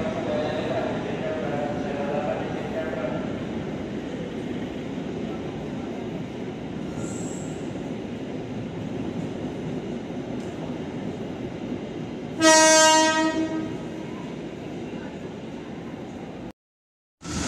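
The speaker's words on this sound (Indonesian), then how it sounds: "Melintas langsung kereta api Argo Parahyangan di jalur satu." The Argo Parahyangan passenger train roars steadily through a station on track one without stopping, at close range, with a sharp horn blast cutting in near the end before the sound suddenly drops out.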